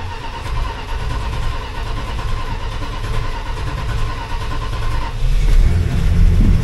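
A 1967 Plymouth Valiant, parked for a while, runs with a steady close engine rumble, then its revs build and swell louder near the end.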